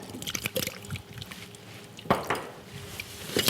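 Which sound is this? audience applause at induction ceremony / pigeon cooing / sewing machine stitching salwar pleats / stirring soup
stirring soup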